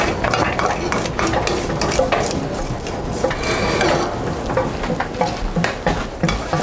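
A garnish being mixed by hand in a bowl, continuous close stirring and scraping with soft wet clicks at a steady pace, no speech over it.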